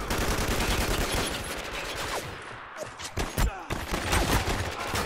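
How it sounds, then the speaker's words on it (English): Sustained gunfire from a multiplayer team deathmatch in the shooter video game Spec Ops: The Line, a loud continuous fusillade of rapid shots with several sharper bursts standing out near the end. "Somebody's shooting at me."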